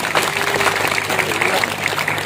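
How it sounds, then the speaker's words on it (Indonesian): Audience applause at an Isra Mi'raj religious sermon gathering in Kajen, Pekalongan, a steady crowd clapping texture sustained throughout the short moment with a voice running over it. "Tepuk tangan buat kita semua"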